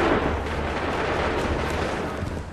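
A musket firing squad lets off a volley in Assassin's Creed III, a loud, booming blast that rolls on as a sustained dense rumble and slowly fades.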